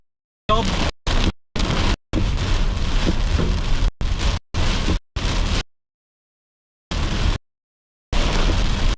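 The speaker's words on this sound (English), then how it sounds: "And here comes the rain again." Heavy rain from a South East Queensland storm pounds down at Narangba in loud, dense bursts that cut in and out, broadband roar with short silent gaps between stretches.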